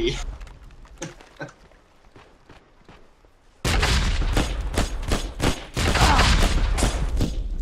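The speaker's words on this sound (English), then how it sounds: "They're now dropping smoke rounds on our OP" Smoke rounds and gunfire land on an outpost in the World War II shooter Hell Let Loose. A quiet stretch with faint distant shots gives way to a sudden loud roar of rapid gunfire and impacts, with voices talking over it.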